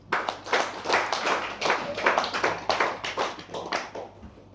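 Meeting audience clapping for Sanjay, a short burst of rhythmic hand claps from a small group, close and moderately loud, with no talk over it.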